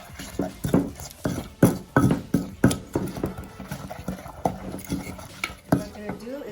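Seasoning paste for a Puerto Rican pork pernil being stirred and mashed together in a bowl, with a steady run of knocking, scraping strokes close by and no talking.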